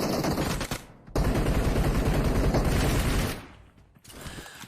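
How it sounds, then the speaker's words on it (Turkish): Dense bursts of gunfire from PUBG Mobile play, loud and rapid like automatic weapons, with a short gap before the shooting resumes and then fades toward the end. "Yanında adam yok ve e, bir sürü silah sesi var."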